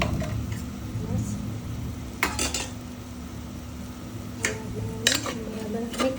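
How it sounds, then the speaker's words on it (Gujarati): Brinjal and potato curry being stirred in a pan for a Gujarati shak, with spoon scrapes and clinks against the metal standing out over a steady low background hum, a few louder knocks spaced through the stretch. "બરાબર મિક્સ કરી દઈશું।"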